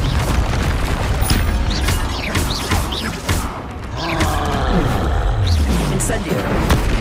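Confringo explosive spell cast in Hogwarts Legacy on PS5, a steady barrage of booming blasts and crackling impacts over continuous game action, loud and dense throughout with faint voices in the mix.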